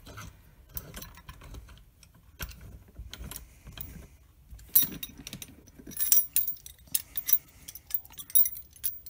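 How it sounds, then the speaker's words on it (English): Metal octagon die parts being removed from a clay extruder, with scattered small clicks and light metallic clinks that grow busier and louder toward the end. "I'm just going to go ahead and remove the octagon die."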